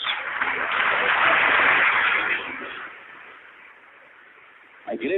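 A church congregation applauds during a worship service, a full burst of clapping that swells in the first half and then thins to a quieter patter, with a brief sharp sound near the end.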